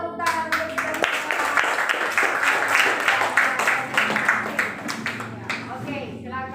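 Classroom audience clapping together, a dense sustained patter of many hands with a sharp opening burst, steady throughout and fading at the end, with voices mixed faintly underneath.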